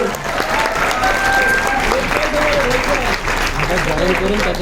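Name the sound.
audience applause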